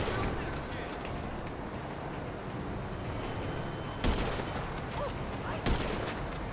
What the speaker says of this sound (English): I'm gonna shoot his tires out.